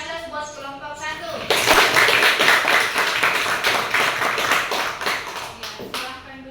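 Audience applause for the first group at a teacher training session, a dense burst of many hands clapping that starts abruptly, holds steady for several seconds and fades near the end, with voices faint underneath.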